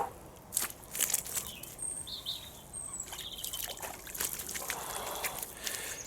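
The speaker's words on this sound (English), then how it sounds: "And then I'll wash our hands now." Hands being washed in lake water at a pike fishing spot, with light splashing and trickling at close range alongside birdsong outdoors.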